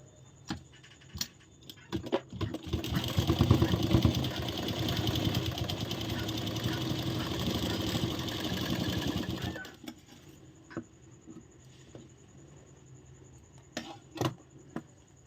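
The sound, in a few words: sewing machine stitching a blouse fitting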